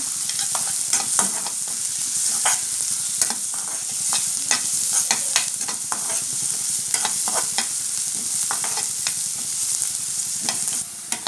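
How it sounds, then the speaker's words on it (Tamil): Small crushed onion pieces sautéing in a pan for bitter gourd stir-fry, a steady close sizzle broken by frequent spatula scrapes and taps as they are stirred, with no voices. "வெங்காயம் நல்லா வதக்க விட்டுடலாம்"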